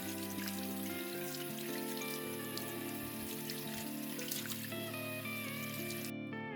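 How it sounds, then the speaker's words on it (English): Steady running tap water streams over microfiber mop cloths from a Roborock Qrevo Edge 5V1 robot vacuum being rinsed, a continuous close splashing trickle with no talk, cutting off near the end. "I wash the microfiber mop cloths under regular running water"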